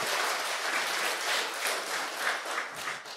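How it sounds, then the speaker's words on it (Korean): Warm, even clapping from a church congregation at a Korean Sunday afternoon worship service fills the room, many hands at once, steady and unbroken for a few seconds with no one speaking. "와, 박수."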